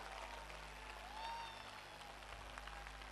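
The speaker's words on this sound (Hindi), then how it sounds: "जोरदार तालियां बजा दीजिए एक बार, जोरदार तालियां दोस्तों" Loud, sustained applause from a large audience at a Hindi-language public speech, a dense steady wash of clapping that swells slightly midway and runs for the whole stretch.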